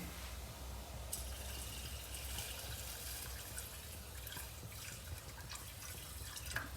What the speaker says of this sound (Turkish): Ben suyumuzu da ekleyelim.